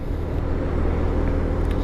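Benelli Leoncino 125 motorcycle on a test ride, its small-engine drone steady and continuous with low rumble and road and wind noise, no talk.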